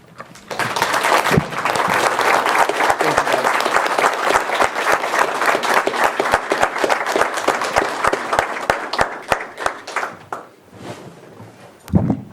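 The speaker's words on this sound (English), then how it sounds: "let's give a special round of applause to this department" A meeting audience gives a sustained round of applause for the county probation department at a board of supervisors session, dense clapping that holds steady for about ten seconds before thinning to a few scattered claps.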